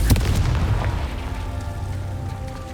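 Confringo explosive spell in Hogwarts Legacy, a loud booming blast that hits at once and rumbles away over a couple of seconds, with no voices over it.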